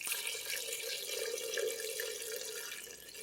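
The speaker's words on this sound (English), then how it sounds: "And we're going to put in the second leek broth." Leek broth pours into a creamy cauliflower soup in a steady, close liquid stream, a continuous gurgling splash with no talking.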